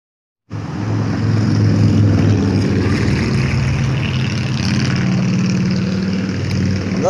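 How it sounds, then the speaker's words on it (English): Loud motorcycles roar past nearby on a street, their engines starting abruptly and holding a strong, continuous rumble for several seconds. "Those were some loud-ass motorcycles."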